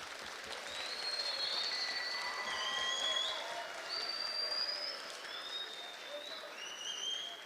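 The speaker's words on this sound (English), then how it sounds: "Last round of applause." A school Veteran's Day assembly crowd applauds steadily throughout, a broad sustained wash of clapping with a few faint cheers and high whistles rising over it.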